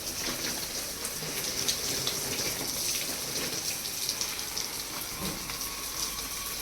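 Water pours steadily over a potted plant from top to bottom, a continuous splashing gush with scattered droplets, close and fairly even throughout.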